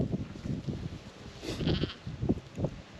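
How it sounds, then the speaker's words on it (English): Several sheep bleat in a barn, with repeated overlapping calls of moderate loudness coming close together in quick succession. "there's a whole lot of sheep out there"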